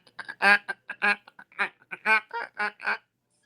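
A duck call imitates a mallard hen, a rapid close series of about a dozen nasal quacks, the loudest in the middle of the run, ending after three seconds.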